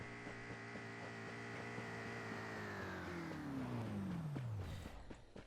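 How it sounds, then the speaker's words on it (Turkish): A car in the video game Rules of Survival drives close by with a steady engine drone that falls in pitch over several seconds as it passes and fades, with no talk over it. "Evet bir araba daha."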